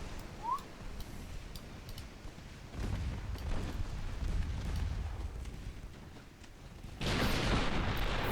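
Torpedoes launch and strike targets in a naval combat video game, with muffled rumbling bursts and booming impacts building in waves, ending in a louder rushing explosion at close range.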